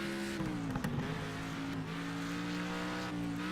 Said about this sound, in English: Yeah, you can do some heavy drifting with this one.